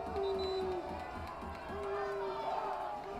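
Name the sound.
home crowd booing the referee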